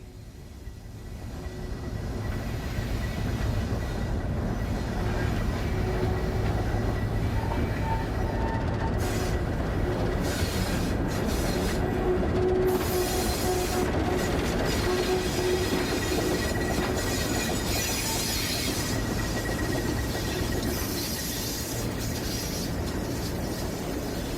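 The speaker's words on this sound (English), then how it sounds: "Once the train has backed past the connecting switch, it comes forward and will head across town" Two early ALCO diesel locomotives pull a train steadily past nearby, wheels clicking over rail joints with occasional metallic squeals, the heavy low drone holding throughout.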